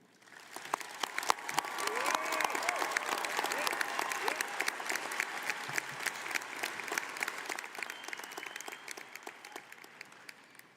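A large crowd at the GRCC 2024 college commencement breaks into sustained applause, swelling then easing, with crisp individual claps over a broad roar and a few faint cheers in a big hall.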